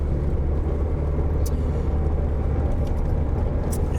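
Steady low rumble of passing road traffic heard from inside a custom micro RV, a continuous engine and tyre drone throughout with no talking.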